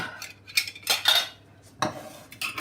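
Glass jars of preserved vegetables and fruit clink and knock against a metal pot several times as they are set in for a water bath, irregular clattering bursts close by with quiet pauses between.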